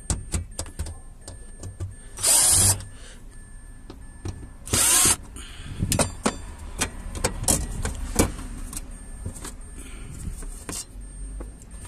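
Power drill driving out three screws from a car's fuel pump cover, heard as two short bright whirring bursts with scattered clicks and tool handling in between, close and fairly quiet.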